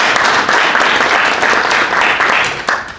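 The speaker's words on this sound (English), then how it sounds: "So if we could give a great round of applause for him." An audience gives a lecture speaker a round of applause, loud dense clapping filling the room without pause before fading slightly at the end.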